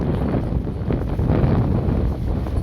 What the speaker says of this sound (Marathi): वारा सुटले सगळं उन्हाळा झाला का असं वाऱ्याची भरपाटी सुटते